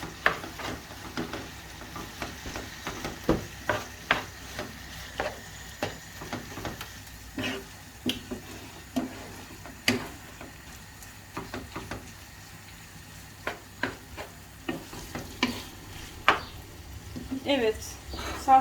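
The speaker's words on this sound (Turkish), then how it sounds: "İyice salçayla kavuruyorum kıymayla." Minced meat with tomato paste and salt frying in a pan for lasagna, with a steady low sizzle broken by repeated scraping and knocking strokes of a stirring utensil against the pan, close and moderately loud.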